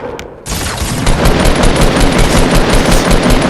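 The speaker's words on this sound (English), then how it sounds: "Then I begin to hear shots going off in the street." Rapid bursts of loud automatic gunfire in a Fortnite match crackle continuously after a brief quieter moment, the shots dense and close with no talking.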